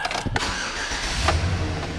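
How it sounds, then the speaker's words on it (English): A used Chevrolet Silverado engine cranks and catches, a short burst of starter noise settling quickly into a close, steady idle. "let's hop in and start it up"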